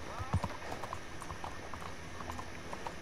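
Horse hooves clip-clop in a steady walking rhythm in Red Dead Redemption 2, a moderate clatter beneath someone talking over the game's background sounds.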